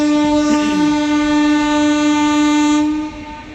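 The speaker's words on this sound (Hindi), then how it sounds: "अपनी ट्रेन 40 मिनट की देरी के साथ पहुंच रही है टूला जंक्शन" The Amrit Bharat Express arrives at Tundla Junction with a loud, sustained horn blast held for about three seconds over the rumble of the rolling train, close by.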